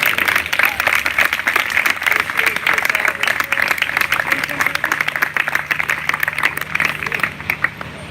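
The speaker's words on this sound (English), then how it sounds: "please give yourselves a round of applause" Audience applause fills the room at a live event in San Luis Obispo, a steady dense clapping that holds at even loudness throughout, with a low hum underneath.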